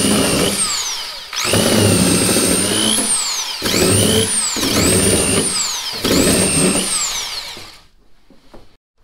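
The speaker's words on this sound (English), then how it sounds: "I've got a belt on there with a 120 grit, and let me see if I can show you how this works." A belt sander fitted with a 120 grit belt works the wooden hull of a small dinghy, a loud whining motor with a grinding rasp that starts and stops in several passes before cutting off into quiet.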